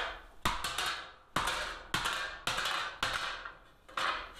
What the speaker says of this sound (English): And do you not like the hammering?